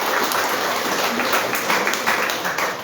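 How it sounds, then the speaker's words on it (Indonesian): Congregation in a church during a Good Friday service claps in a sustained, dense round of applause, even and fairly loud from start to finish. "Beri tepuk tangannya yang luar biasa."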